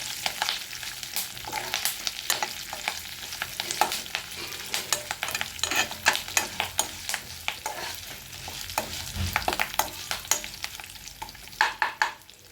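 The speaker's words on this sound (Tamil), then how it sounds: "கருவேப்பிலை பொட்டப்பட்டா பொட்டப்பட்டான்னு வெடிக்கும்" Curry leaves spluttering and crackling in hot oil while sautéing for urad dal tomato chutney, with frequent sharp pops and stirring scrapes over a steady sizzle, fairly close, with denser bursts near the end.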